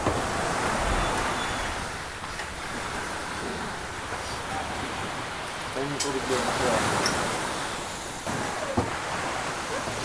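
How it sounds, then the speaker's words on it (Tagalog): Strong ocean waves crash on the shore at high tide, a steady loud roaring wash with gusts of wind and faint voices now and then. "maririnig niyo yung hampas na ang alon"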